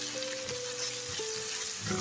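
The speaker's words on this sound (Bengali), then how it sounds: "মরিচগুলি দিয়েও আমি ভালো করে আরো ভেজে" Chilies and half-fried onions sizzling steadily in hot oil for spicy eggplant dopiaza, a soft continuous frying crackle heard alone.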